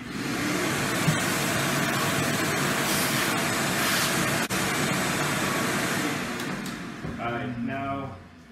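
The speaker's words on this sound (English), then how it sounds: "I have the motors dusty again, so I'm going to just vacuum it" A Ridgid shop vac runs, vacuuming dust off its own removed motor, giving a steady loud rushing hum that holds for several seconds before shifting and winding down near the end.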